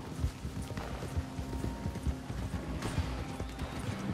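Horse hooves clip-clop at a galloping rhythm while riding in the video game Red Dead Redemption 2, with steady rumbling movement and a faint whinny, no voices over it.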